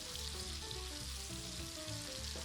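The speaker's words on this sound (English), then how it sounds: "So then you're putting your fish on there, and whatever excess you've got, put it on into the pan." Sea bass fries in a pan coated with spices, sending up a steady, even sizzle that stays close and constant throughout, with no talk.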